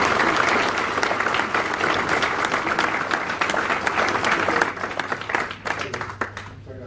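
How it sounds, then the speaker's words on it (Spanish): An audience applauds the eight authors at a book presentation in La Paz, Bolivia, with sustained, loud, dense clapping that thins out and fades toward the end. "permítanme invitarlos a aplaudir a los 8 autores"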